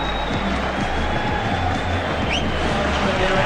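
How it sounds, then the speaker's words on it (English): A stadium crowd roars at the World Athletics Championships in Oregon as the leaders of a women's race reach the bell, a steady dense wall of cheering with a commentator's voice running over it. "Listen to the roar of the crowd"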